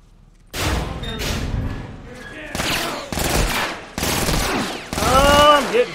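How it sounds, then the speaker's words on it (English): Gunfire in the video game The Last of Us: repeated loud bursts of rapid shots and heavy thuds, close and echoing, with a voice calling out near the end. "Getting shot at!"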